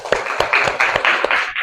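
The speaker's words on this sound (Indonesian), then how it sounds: "beri tepuk tangan semuanya" Class of young students clapping together in a classroom, a few loud, close, uneven claps spaced roughly every quarter second, with some scattered voices mixed in.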